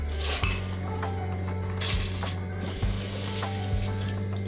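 Pots and utensils clank and clatter over a low steady hum, with a few sharper knocks as soaked basmati rice is tipped into a boiling pot of mutton biryani on the stove.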